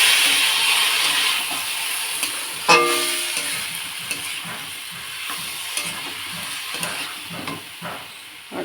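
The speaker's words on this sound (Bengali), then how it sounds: "দেখো চাল ডালটা আমি ভালো করে কষিয়ে নিয়েছি" Washed rice and lentils sizzle and fry steadily in a pan, with a stirring scrape near the start and repeated soft clinks of a spoon against the pan throughout.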